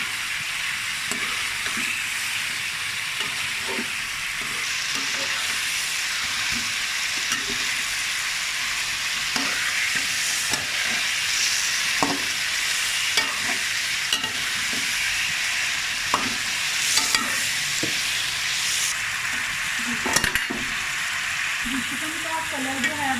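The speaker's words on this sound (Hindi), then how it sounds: "नमक के साथ हम इसको फ्राई करेंगे ताकि नमक जो है वो अच्छे से चिकन में रच जाए।" Chicken pieces for chicken karahi sizzle steadily in hot oil with salt, with a constant bright frying hiss and the scrape and clack of a spoon stirring now and then.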